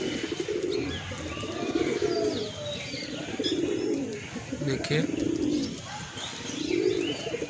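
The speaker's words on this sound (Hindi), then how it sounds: "इधर पे कबूतर अभी देखिए क्या करने की कोशिश कर रहा है।" Pet pigeons coo in repeated low, throaty rolling phrases close by, with chirps and light background bird activity around them, while someone speaks briefly over the cooing.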